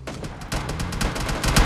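Rapid in-game gunfire from PUBG Mobile Lite, a dense string of sharp shots in quick bursts with a louder volley near the end, no talking over it.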